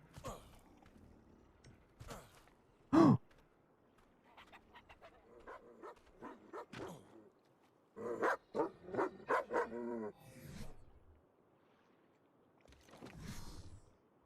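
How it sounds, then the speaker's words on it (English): Dogs bark in the video game ARK Survival Ascended, scattered short barks and yips at moderate distance, some clustered in quick bursts, against a quiet game background. "I just heard barking."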